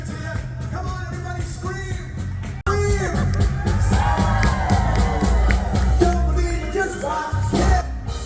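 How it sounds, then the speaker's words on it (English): Cruise ship passengers screaming, whooping and cheering together on deck during rough transatlantic seas, a loud sustained crowd roar that swells after a brief break, with wind and motion noise underneath. "Come on, everybody, scream!"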